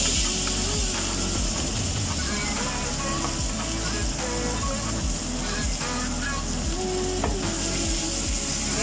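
Ground spice paste hits hot oil for spicy chicken rica-rica, a loud, dense, continuous sizzle with scraping stirs underneath, close and steady throughout.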